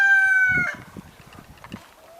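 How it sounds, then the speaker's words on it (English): A game rooster crows loudly and close by, one long drawn-out call, followed by softer clucking and scratching sounds. "game rooster's having a crow fest."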